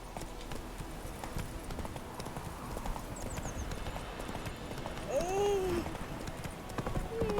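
In The Witcher 3, a horse gallops with fast, rhythmic hoof clip-clops on the ground, joined by a short whinny near the end, over ambient game sounds and faint voices.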